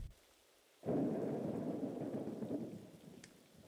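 Rain and thunder in the video game Atom Zombie Smasher: a steady, loud wash of rainfall begins abruptly after a short quiet start and continues without break, with a faint high sparkle near the end.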